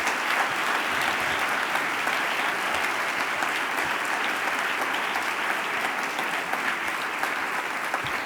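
Sustained applause from a ceremony audience honouring new adopted sons of Alhaurín de la Torre, a dense, steady wash of clapping hands lasting throughout with no pauses.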